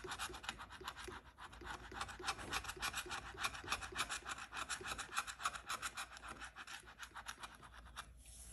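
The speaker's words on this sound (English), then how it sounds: "And I got the heavy duty guy for scratching today." Rapid rhythmic scratching of a coin-like tool against latex coating on lottery scratch tickets, a steady close rasping that runs without pause and stops briefly near the end.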